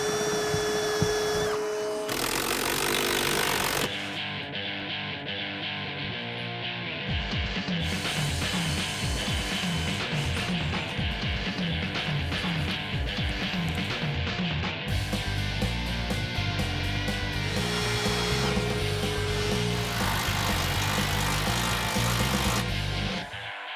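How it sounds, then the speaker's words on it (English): Power drill boring holes during a ramp truck build, several loud whirring bursts of varying pitch with short pauses between them, alternating with sections of dense mechanical noise. "Let's drill some holes."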